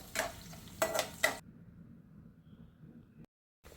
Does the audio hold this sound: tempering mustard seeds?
yes